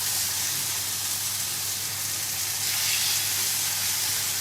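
Chicken pieces searing in a hot pan, a loud, dense and steady sizzle close up, with no voices over it.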